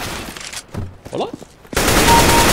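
Gunfire in a CS:GO deathmatch: scattered shots and a voice, then a loud, dense burst of rapid automatic fire that runs to the end.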